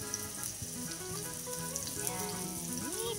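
Onions sizzle and crackle in hot oil in a pan, a soft continuous frying sound with faint stirring clinks and no one talking.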